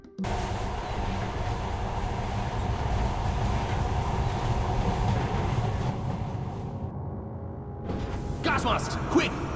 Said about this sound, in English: welcome to the Black Mesa Transit System. This automated train is provided for